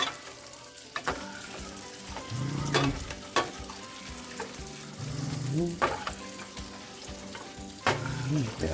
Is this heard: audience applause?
no